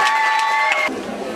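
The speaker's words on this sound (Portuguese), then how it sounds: "Uma salva de palmas para os apresentadores do Sarau da ESFA 2009." A crowd at a 2009 school soirée (Sarau da ESFA) applauds and cheers loudly for the presenters, a dense wash of noise with bright tonal ringing, then a softer, quieter tail of clapping and murmur.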